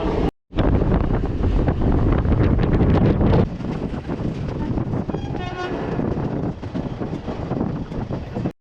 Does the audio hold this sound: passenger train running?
yes